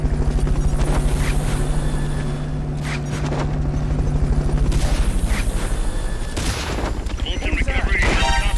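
A recovery helicopter's rotor drones steadily through a Metal Gear Solid: Peace Walker battle, overlaid with bursts of gunfire and booms, with players talking over the action.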